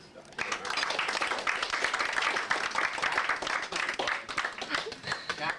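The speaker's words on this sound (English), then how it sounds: "we all should celebrate that promotion with a round of applause right now" A room full of guests at a partner's roast breaks into a sustained round of applause, dense steady clapping that swells quickly and carries on for several seconds.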